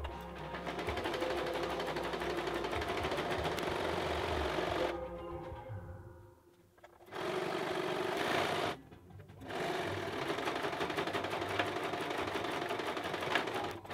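A sewing machine stitches in steady rapid bursts, running continuously, pausing briefly, then starting again as it goes back and forth in reverse; close and fairly loud with no talking.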